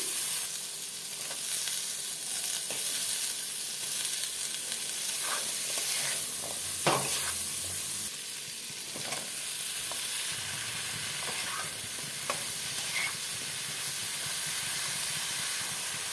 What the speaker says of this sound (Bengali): ভালো করে মশলার সাথে সবজিটাকে ভাজতে হবে